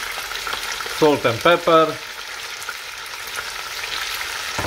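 Chopped onion and garlic frying in a stew pot, a steady close sizzle heard all the way through, with a brief spoken phrase near the start.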